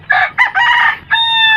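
A backyard rooster crows loudly at dawn, a close, strained call in several bursts ending in a long sustained note, set against a quiet morning farmyard.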